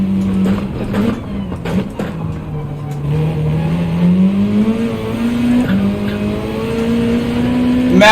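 Turbocharged race car in Gran Turismo 7, engine roaring loud and steady with rising revs, gear changes and tire squeal throughout, the tone climbing over the final seconds.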